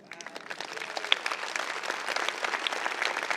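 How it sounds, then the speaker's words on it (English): Church congregation applauding at a Sunday service, a steady round of close clapping that builds and holds for a few seconds. "I applauded as well"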